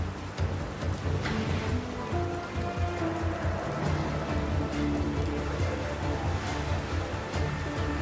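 Heavy rain pours steadily during Cyclone Biparjoy amid strong winds, a dense continuous hiss of drops hammering surfaces with no voices.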